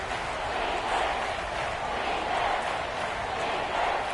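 Seahawks stadium crowd roaring in a football video game, a steady, loud wash of massed cheering and noise with no breaks, filling the whole span evenly.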